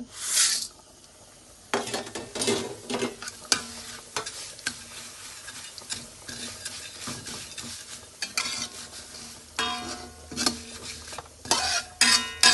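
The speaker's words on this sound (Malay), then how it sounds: "Gorengkan bihun dalam kuali dengan minyak sapi" Rice vermicelli sizzles in hot ghee in a wok while a utensil repeatedly scrapes and stirs against the metal in quick, irregular strokes.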